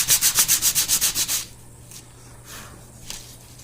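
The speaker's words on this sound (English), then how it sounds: "If you take just a corner of the sandpaper, you can lighten little spots." Sandpaper rubs briskly across a wooden dice box in about ten quick, rhythmic strokes, then gives way to a few softer, scattered scrapes.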